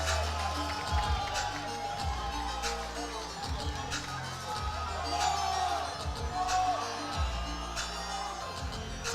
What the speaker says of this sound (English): He calls for the crowd and they respond.